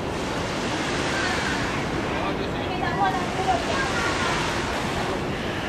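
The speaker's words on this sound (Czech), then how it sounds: "No takhle tady mají všude fontány, stříká jim voda" Water spraying from fountains in Kuala Lumpur, a steady broadband rush and splash, loud and continuous like surf, with faint voices briefly underneath.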